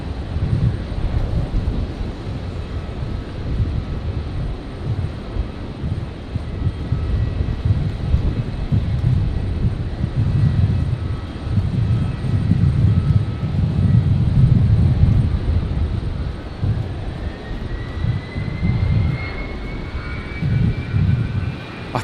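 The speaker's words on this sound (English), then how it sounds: "It's just the engine run up going on over here." An aircraft engine run-up at Brisbane airport, a continuous distant low roar with rising and falling surges and some wind buffeting over about twenty seconds, no speech.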